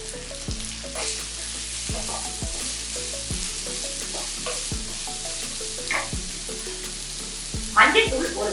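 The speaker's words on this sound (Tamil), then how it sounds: "ஒரு 2 வெங்காயம் பெரிய வெங்காயம் பொடியாக நறுக்கி வச்சிருக்கேன், அதுவும் இதில் சேர்த்து நல்லா வதக்கிக்கலாம்." Chopped large onions sizzle in a pan, with a steady frying hiss and regular scrapes of a stirring spoon throughout.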